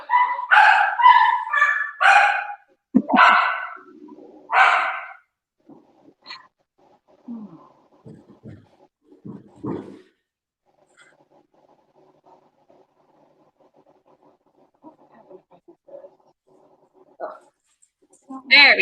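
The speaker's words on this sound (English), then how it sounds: "Oh, sounds like dogs?" Dogs bark, yip and whine in a rapid burst of close, loud calls, then the barking thins into scattered softer yelps and rustling with long quiet gaps before a final bark.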